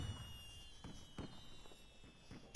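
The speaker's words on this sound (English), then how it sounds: "We're gonna get some inverted fireworks in the house." Fireworks in the video game Skylanders Trap Team pop and crackle in several quick bursts over a steady electronic hum, faint and close.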